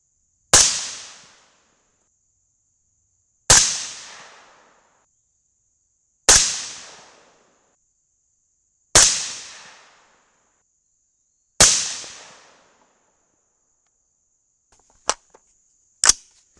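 Five sharp .223 rifle shots with CCI 400 primers crack out at even intervals of about three seconds, each loud report decaying quickly outdoors, followed by two fainter, shorter pops.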